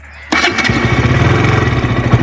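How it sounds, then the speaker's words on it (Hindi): A KTM RC 200 motorcycle, a 2022 model, fires up with an abrupt start and settles straight into a steady, close, buzzing idle, with no talking. "न्यूट्रल करके अभी स्टार्ट देना पड़ेगा"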